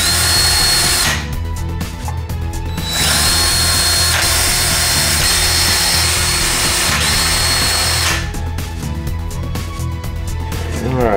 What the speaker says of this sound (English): I'll use that same drill bit we drilled this plate with to mark the centers of our holes.